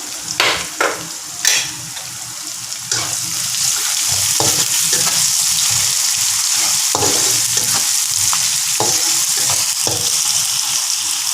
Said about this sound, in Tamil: வெங்காயம் வதங்கிறது கொஞ்சம் உப்பு போட்டுக்குவோம்.